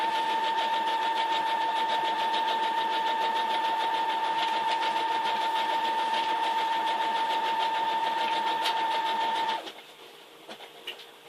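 A sewing machine stitches a zigzag quilt label in a fast, continuous mechanical whir with a steady hum. It runs for nearly ten seconds, stops abruptly, and a few faint clicks follow in the quiet.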